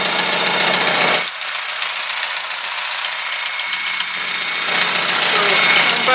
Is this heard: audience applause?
no